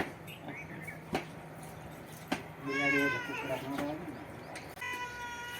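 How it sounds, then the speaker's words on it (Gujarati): A cat that has come to drink milk in a village farm setting gives a couple of clear, close meows midway, with a voice talking around it. "જો બિલાડી આવી ગઈ દૂધ પીવા."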